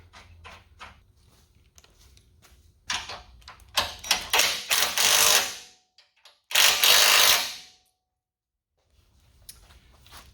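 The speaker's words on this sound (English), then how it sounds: "And then we're going to tighten down these bolts." Bolts being tightened on an SFR Sledgehammer Series rear bumper on a Bronco, with bursts of quick ratcheting clicks up close, two louder runs separated by pauses and a short quiet gap near the end.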